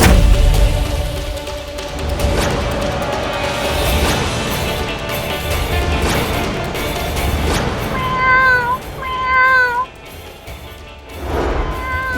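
A cat meows in a couple of clear, rising cries late in the scene, over busy background sounds and a thud.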